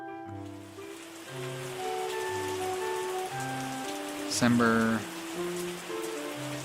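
Rain falling in the video game Wine Making Tycoon Simulator: a soft, steady patter of rain beneath a gentle game music melody, with someone speaking briefly over it.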